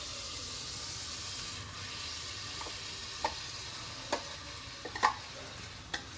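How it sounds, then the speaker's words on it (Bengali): Spinach paste and yogurt paste stirred in hot ghee, a low steady sizzle with sparse spoon taps and scrapes that cluster toward the end. "তো দেখো এখানে এইটাকে ভালো করে নেড়ে মিশিয়ে নিতে হবে।"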